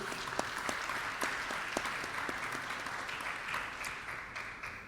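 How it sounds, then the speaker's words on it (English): An audience claps for the speakers of an ADSW Summit panel on resilient infrastructure, a fairly soft, steady patter of many hands running for about five seconds and thinning slightly at the end. "please join me in a round of applause for our speakers this afternoon"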